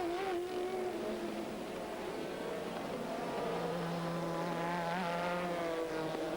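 Race cars from the 2000 American Le Mans Series, including BMWs, with several engines droning and revving at steady high pitch, layered and continuous from a distance.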